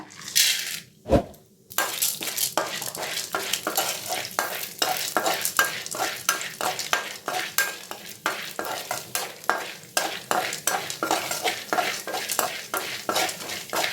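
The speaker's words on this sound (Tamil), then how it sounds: "அதே எண்ணெயில் பொட்டுக்கடலை," Roasted gram (pottukadalai) frying in oil in a pan for coconut chutney, a steady close sizzle with rapid, regular scraping strokes of a spoon stirring, brief knock near the start, no talk.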